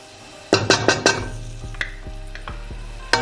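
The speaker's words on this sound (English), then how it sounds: "into this I'm going to be putting in the cumin seeds, the ginger and garlic paste" Cumin seeds and ginger-garlic paste dropped into hot oil for a spinach curry, a burst of sharp crackling spatter followed by steady sizzle with a few utensil knocks, close up and without talk.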